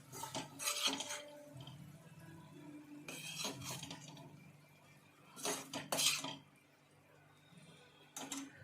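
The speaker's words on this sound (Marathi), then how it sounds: "तर आता मी गॅस बंद करते आणि हे एका बाउलमध्ये काढते" Cooked kartoli (spiny gourd) vegetable being spooned from a pan into a bowl, with three clusters of metallic spoon scrapes and clinks against cookware, moderately close, separated by quiet stretches.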